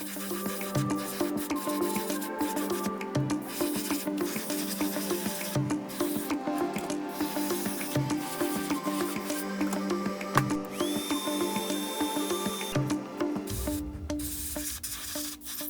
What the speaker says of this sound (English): The next color we're going to be spraying is a pearlized copper.